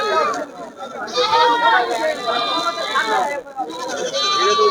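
Goats bleat at a rural goat market, with several wavering, nasal cries rising over one another while market chatter and nearby voices run underneath.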